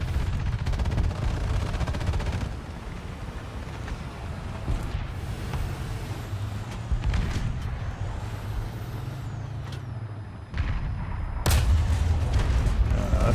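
Rapid artillery fire from the Swedish Bkan 1C self-propelled gun in War Thunder, heavy booming blasts with loud rumbling mechanical noise throughout and a sharp, louder report near the end, no talk.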